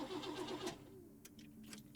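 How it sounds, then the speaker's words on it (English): A video-game car engine cranks with a starter whirr, then stops without catching, leaving a quiet interior with a few faint clicks. "Start the car."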